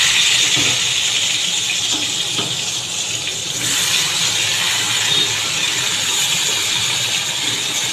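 Salted, turmeric-coated eggplant pieces fry in hot oil, giving a loud, steady, dense sizzle with a faint crackle that continues unbroken throughout.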